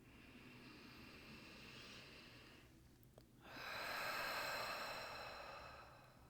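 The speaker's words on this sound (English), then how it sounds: "breathing in." Slow breathing during a guided meditation: a long, soft, airy exhale gives way to a fuller, louder inhalation after a short pause, close and without talk.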